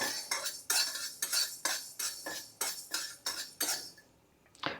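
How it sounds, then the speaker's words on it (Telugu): Dry roasting fenugreek seeds in a pan on the stove, with a steady rhythm of close scraping and clinking strokes from a utensil against the pan, fairly quiet, then a pause and one final scrape. "స్టవ్ ఆన్ చేసుకొని దీంట్లోకి మనకి కొన్ని మెంతులు వేయించుకుందాం మంచిగా"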